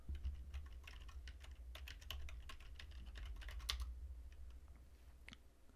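A password is typed on a computer keyboard at a router login page. Quick, irregular keystrokes click steadily and close-up for several seconds over a low background hum.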